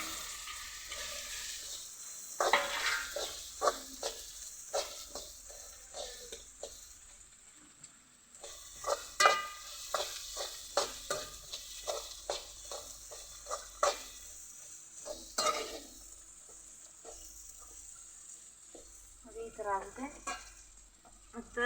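Green pigeon peas (togari) are being stirred and fried in a pan, with repeated scraping strokes and bursts of sizzling in an uneven rhythm, close and fairly loud.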